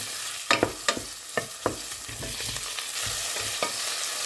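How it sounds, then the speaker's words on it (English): Onion and tomato sautéing in a pan, a spatula scraping and stirring in several sharp strokes over a steady close sizzle. "Continue on sautéing until the aroma comes out."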